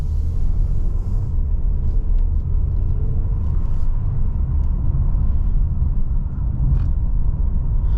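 A Mercedes-Benz car with MBUX pulls away after the brake hold releases, a loud, steady low engine and road rumble that carries on for several seconds with no talking.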